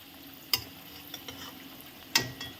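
Sweet potato slices fry in oil with a steady low sizzle, broken by two sharp clinks of a utensil against the pan.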